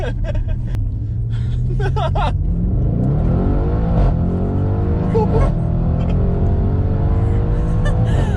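A modified Audi RS6 with a 4-litre V8 accelerates hard, its loud engine note climbing steadily in pitch through a sustained rev, with voices talking briefly inside the car at the start.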